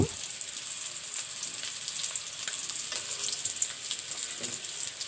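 Snakehead fish fries in hot oil as it is turned over, with a dense, loud, steady sizzle and crackle filling the whole span and a few faint clinks of the utensil underneath.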